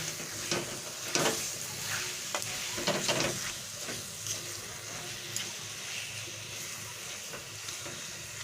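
Salt is worked into a wood apple (kodbel) pickle with soft, irregular stirring and scraping, moderately faint and close, with no voices.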